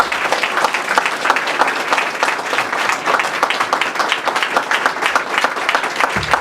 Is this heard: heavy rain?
no